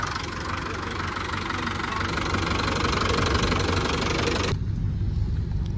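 A troubled car engine idles with a steady, rough knocking rumble, continuous and fairly loud throughout, with a faint high whine for part of it before the upper hiss drops away near the end.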